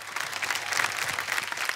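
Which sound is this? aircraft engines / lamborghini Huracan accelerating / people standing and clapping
people standing and clapping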